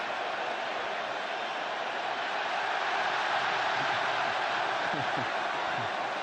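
Stadium home crowd roaring steadily during a pitch invasion at a Germany versus France international football friendly, a dense continuous wash of distant noise.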